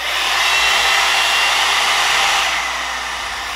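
An Amika blow dryer brush runs on its second setting, medium heat and low speed, giving a loud, steady, close-up airy whoosh that eases slightly toward the end.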